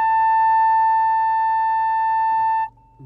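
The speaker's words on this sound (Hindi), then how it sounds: "इतना ज़ोरदार सेंसर बजने लग गया," Reverse parking sensor of a Tata Punch beeping with a loud, steady, piercing electronic tone that holds continuously for over two seconds before cutting off.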